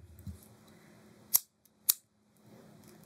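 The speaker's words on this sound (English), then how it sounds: "I'm going to come in with my scissors and trim off." Two crisp scissor snips trimming waxed cord, about half a second apart, stand out sharply against a quiet background with faint handling noise before and after.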